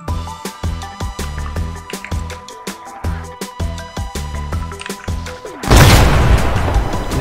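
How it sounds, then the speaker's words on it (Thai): A rapid series of heavy booms, about a dozen deep thuds in quick succession, ending in a large, sustained crashing explosion: an artillery barrage in the video game Arma 3. "เดี๋ยวเราจะสั่งปืนใหญ่กันเลยนะครับ"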